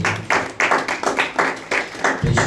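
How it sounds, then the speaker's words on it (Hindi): Several people clap together at a Christian sermon gathering, a run of sharp, fairly close claps in uneven bursts with no talk over them. "ताली बजाओ भैया आकाश"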